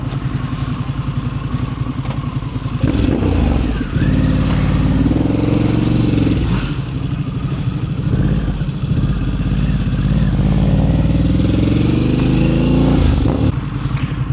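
Ducati and BMW motorcycles roll away from a bike meetup, loud engines rumbling close by with revving and shifting as they accelerate off, steady throughout with some clatter.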